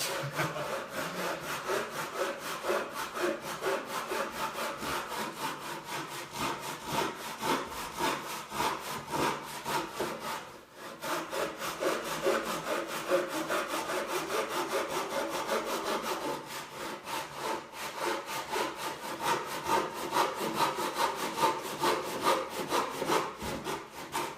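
Steady back-and-forth strokes of a hand saw cutting through wood, close and rhythmic, with a brief pause midway before sawing resumes.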